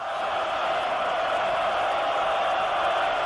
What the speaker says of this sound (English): they'll bring it to the offensive end as the crowd roars